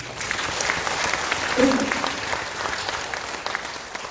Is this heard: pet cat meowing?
no